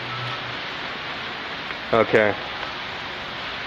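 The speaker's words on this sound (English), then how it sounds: "I'm going to go out in the rain." Steady rain falls outdoors at the corner of a studio, a dense even hiss that carries through the whole stretch, with a short burst of a person speaking in the middle.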